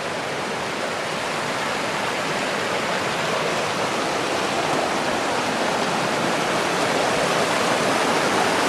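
Libby Creek rushes steadily over rocks in the dark, a dense, even broadband roar of flowing water that stays constant and close throughout, with no voices.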